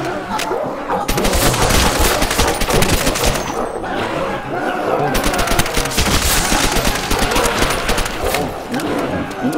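Rapid, loud gunfire against zombies in the game Nacht, dense bursts of shots continuing throughout, with shouting and talk mixed in.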